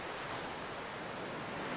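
A brief stretch of ocean surf from the video game A Plague Tale: Requiem: an even, unbroken roar of waves and wind noise with no talking.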